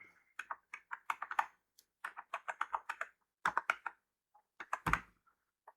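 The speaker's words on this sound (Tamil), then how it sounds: "டைப் பண்ணணுங்க." Typing on a computer keyboard while entering an Aadhaar number online, in irregular bursts of close, crisp key clicks separated by short pauses.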